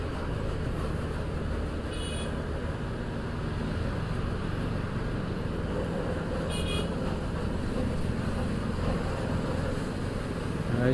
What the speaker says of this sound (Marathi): चिट्ट्यावर का हॉर्न मारतो, कुठं जाऊ